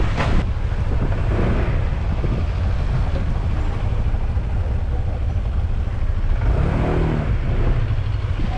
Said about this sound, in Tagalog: Sobrang lakas ng hangin, hindi tayo makapagpalipad ng drone.